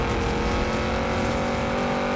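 A Lamborghini Urus SUV engine in Forza Horizon 4 drones loudly and steadily as it accelerates, a sustained close motor roar with a hint of tire noise and no talking.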